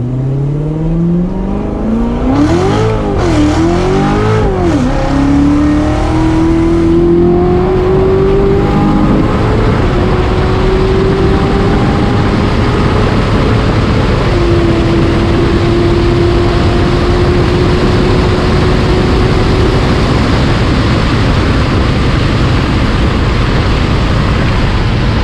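Corvette Z06 engine revving hard on a dyno with paddle shifting, loud climbing revs with quick shift wobbles early, then a long sustained high-rpm roar that holds steady to the end.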